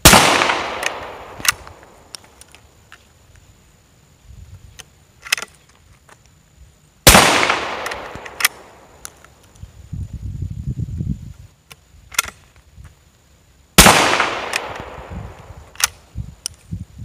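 A Wards Western Field model 17b .410 shotgun fires three loud, sharp outdoor shots about seven seconds apart, each with a ringing decay, and faint handling noises in between.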